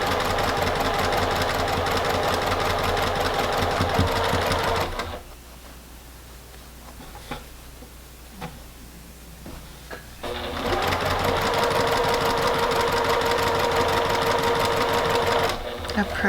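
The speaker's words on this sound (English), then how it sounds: "stitch all the way down that right hand edge using the 1/4 inch" A sewing machine with a 1/4 inch foot stitches quilt seams at a fast, even rattle, pausing for several seconds of quiet handling before resuming the steady run.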